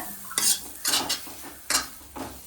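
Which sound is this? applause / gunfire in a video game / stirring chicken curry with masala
stirring chicken curry with masala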